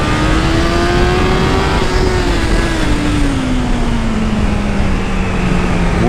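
A mini moto engine drones loudly and steadily under throttle, its pitch rising slightly then gradually falling, heard up close with wind noise.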